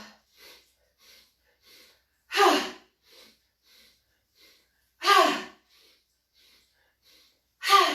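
Deep, forceful breaths during a guided morning wake-up exercise: three strong inhales roughly every two and a half seconds, with softer, quieter breaths and sniffs spaced evenly between them, close and clear against silence.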